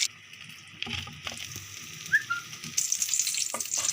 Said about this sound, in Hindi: ये देखिए सारे जो हमने रेडी कर लिए, इन्हें अब हम फ्राई कर लेंगे